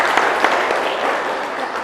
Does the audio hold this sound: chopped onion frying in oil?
no